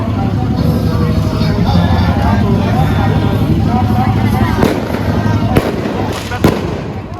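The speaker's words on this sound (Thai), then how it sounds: "ยิงพลุไป" Fireworks set off at a street protest, with sharp bangs and crackles breaking over a dense, loud crowd hubbub and people talking nearby.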